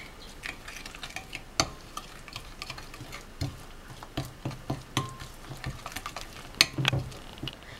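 A spoon stirs red chili powder, salt and spices into a paneer tikka marinade, giving soft irregular scrapes and taps in a quick close-up rhythm with a few sharper clicks.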